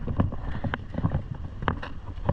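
Strong northeast monsoon wind buffeting the microphone outdoors, gusting in rough low rumbles with scattered knocks and rustles, close and steady throughout.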